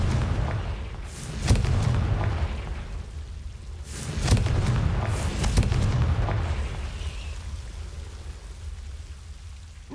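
A Confringo fire spell explodes in a Harry Potter video game, giving a sharp booming blast followed by crackling, rain-like debris, then a second burst and a long fading rumble.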